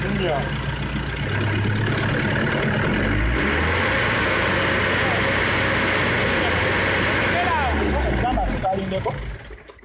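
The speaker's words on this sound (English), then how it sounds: "we are going to rev it to the maximum RPM it can" A Mercedes Sprinter common-rail diesel engine revved up to maximum RPM, a loud close rising roar that holds high then drops back, with a person talking over it.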